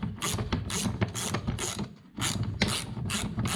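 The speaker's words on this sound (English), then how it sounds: "So just a 14mm spanner." A 14mm spanner ratchet undoes axle bolts on an FJ45 Land Cruiser, clicking loudly and rapidly in repeated bursts with a short pause midway, close up and without talk.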